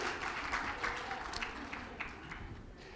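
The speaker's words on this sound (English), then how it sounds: "Okay, big applause." Audience applause at a women's leadership forum, a steady broadband patter of many hands clapping at moderate distance for the full stretch, with no talk over it.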